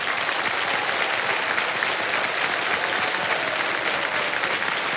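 Dense, steady applause from a large studio audience on a television quiz-show set, many hands clapping at once at an even level for the whole stretch, with no voices rising above it.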